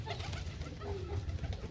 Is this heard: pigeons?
yes